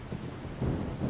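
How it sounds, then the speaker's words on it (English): Thunder rumbling with steady rain in the survival video game 7 Days to Die, a low continuous roll that swells louder about halfway through, with no voices. "but I guess thunder sounds are really that loud."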